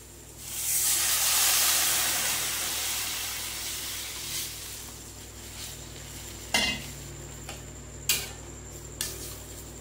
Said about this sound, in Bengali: এইবারে আমি এতে দিয়ে দেবো জল।